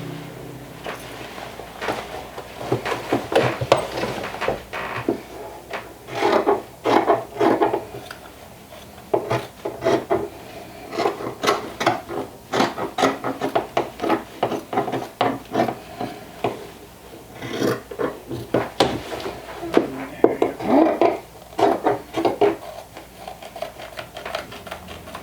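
Scissors snip through fabric at the corners of a vintage jumper sewing project, producing irregular bursts of close, crisp cutting and rustling with short pauses between.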